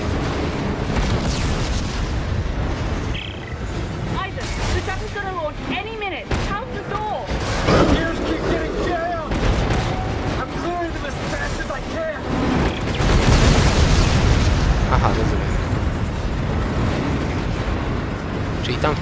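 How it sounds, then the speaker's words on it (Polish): Explosive barrels falling and blowing up in Dead Space 3, with repeated booms and rumbling blasts layered over dense, continuous game noise and a loud burst near the end. "spadają beczki z ładunkiem wybuchowym"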